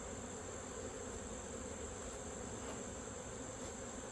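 Steady, dense buzzing of many honey bees close by as they drink from holes in a mason jar feeder lid, a continuous insect hum with no pauses and no voices.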